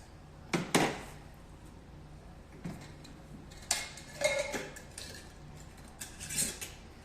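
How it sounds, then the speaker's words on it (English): Okra in salt brine rattles inside a glass jar as it is shaken, giving several separate knocking clatters with quiet pauses between them, fairly close and moderately loud. "We're going to give it a good shake."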